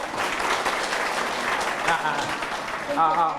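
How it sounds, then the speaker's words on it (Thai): A group of people applauds at an outdoor gathering for elderly villagers in Nakhon Sawan, Thailand, with dense continuous clapping throughout and voices talking over it near the end. "เอาปรบมือเขาครับสุดยอดครับ"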